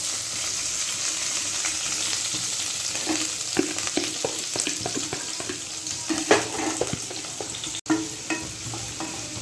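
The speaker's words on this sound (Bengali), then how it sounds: "একদম লাল লাল পেঁয়াজটা ভাজা হয়ে যাবে" Sliced onions and green chilies fry in oil in a home kitchen, a continuous close hiss and sizzle broken by scattered spatters and stirring scrapes, with no talking.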